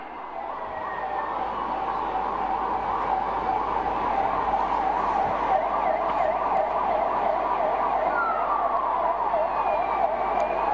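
Wailing sirens from a fleet of new 108 ambulances at a Madhya Pradesh flag-off ceremony, a loud, steady, rising-and-falling wail over a low engine rumble throughout.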